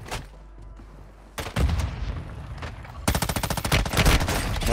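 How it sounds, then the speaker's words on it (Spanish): Automatic and single gunshots crackle through a match of Warzone Mobile: a quiet stretch gives way to a loud burst, then sustained rapid machine-gun fire fills the final seconds, near and dense. "Nos están disparando de otro flanco con el otro lado"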